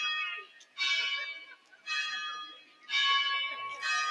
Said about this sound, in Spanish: el sonido de las campanas que a veces doblan por los muertos